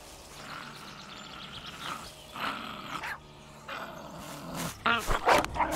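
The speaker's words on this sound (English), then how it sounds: "Now, I saw a dog over here." A dog in a survival video game growls and barks in short bursts over a steady background hiss, the barks growing louder near the end.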